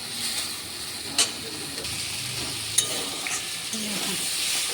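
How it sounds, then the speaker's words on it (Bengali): Potato and okra simmer in a poppy seed paste as a spoon stirs them around the pan, producing soft scraping and a low continuous sizzle with a couple of sharper clinks against the metal. "এখন আমি একটু নেড়ে চেড়ে নেব"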